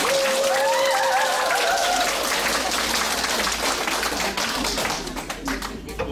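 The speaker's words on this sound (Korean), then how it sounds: "큰 박수" Loud applause from a crowd fills the space, steady and dense before tapering slightly at the end, with a voice briefly heard over it at the start.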